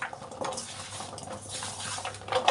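Potato pieces being tossed and mixed with cornflour in a bowl for crispy French fries, a soft continuous scraping and clattering of utensil against bowl, close and steady with no talking.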